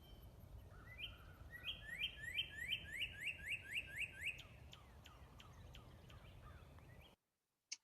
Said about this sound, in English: that was just a cardinal that was singing in my backyard